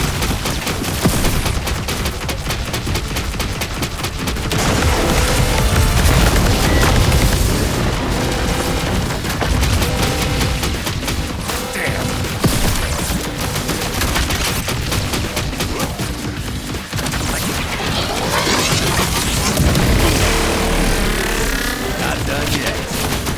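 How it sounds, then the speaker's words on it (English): Spread-shot gunfire in Contra: Operation Galuga, a dense, relentless barrage of rapid shots, ricochets and booming explosions layered over game music, loud throughout. "Overloading the spread shot creates a barrage of ricocheting bullets."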